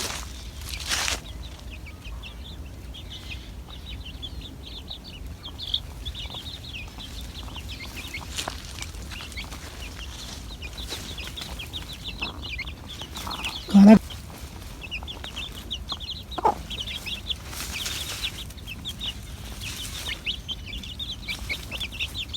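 Chickens cluck and peck at grapes on bare soil with chicks milling about, giving scattered near clucks and soft calls over light background noise and an occasional louder squawk.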